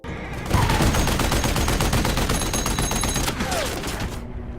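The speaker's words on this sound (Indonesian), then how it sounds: "Bruno pun langsung mengejar Atami dan menembaknya dengan tank" Loud, rapid bursts of tank gunfire in a Nazi-era war film, a dense continuous volley lasting several seconds before tapering off.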